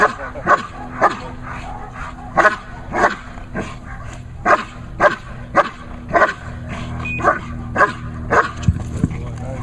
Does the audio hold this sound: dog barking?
yes